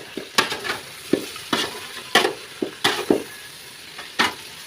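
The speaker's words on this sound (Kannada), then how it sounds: "ಉಪ್ಪು ಹಾಕಿ ಇವಾಗ ಒಂದು ಸಲ ತಿರುಗಿಸಿ ತಟ್ಟೆ ಮುಚ್ಚಿ ಬಿಟ್ಟರೆ ಸಾಕು" Mutton with salt is stirred in a pot, irregular scraping and clinking spoon strokes over a light sizzle, close and moderately loud with no voices.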